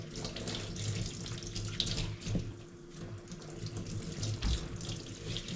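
Tap water runs steadily into a sink while freshly harvested bamboo shoots are washed, a continuous splashing hiss with a few brief knocks and clatters, close and alone with no talking.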